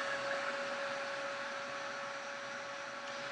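A heat tool blowing hot air to dry spray paint on an altered journal cover, a steady, even whirring hiss with a constant tone running throughout, no talking.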